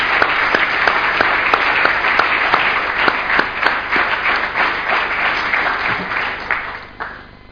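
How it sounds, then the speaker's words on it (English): A conference audience in DC stands and claps for a sustained minute in honor of victims. The applause is steady, full and close, with sharp individual claps over the roar, tapering slightly at the end. "clapping in their honor."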